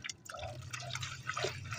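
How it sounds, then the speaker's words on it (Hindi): Water is poured into a container to mix with a poultry syrup, giving a faint, quiet trickle and dripping with a low hum behind it. "2 लीटर पानी डाल देंगे।"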